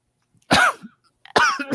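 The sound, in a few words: people coughing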